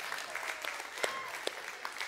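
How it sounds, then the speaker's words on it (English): Light, scattered clapping from a worship-service audience honoring the seniors, with individual claps popping out here and there over a quiet room. "we'd just love to give them a round of applause for"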